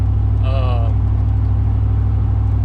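An LS-swapped Chevrolet K1500 pickup drones with a steady, loud, low engine note while driving, and a brief voice-like sound rises over it early on.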